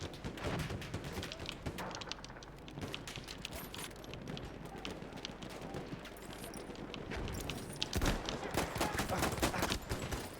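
Gunfire in the video game Battlefield 1, rapid shots and bursts crackling at moderate distance over busy battlefield noise, with a voice talking over it.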